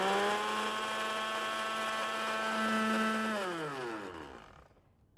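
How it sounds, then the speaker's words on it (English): A countertop blender whirs steadily while starting a white wine salad dressing, a loud even motor whine that slows and winds down near the end as it is switched off. "So the first thing you do is you start with this in the blender"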